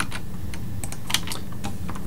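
Fast typing on a computer keyboard, a steady patter of close, crisp key clicks with occasional louder strikes and no talk.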